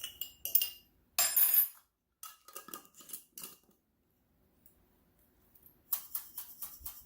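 A spoon clinks and scrapes inside a glass jar while homemade seasoning mix with a pinch of sage is stirred, giving short bursts of bright clinking separated by quiet pauses, close and fairly soft.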